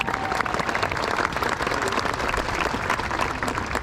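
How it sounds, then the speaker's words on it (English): A graduation crowd at Sebastian River High School in Florida claps in steady, dense applause that holds at an even loudness throughout, with no voices standing out. "Please give them another round of applause."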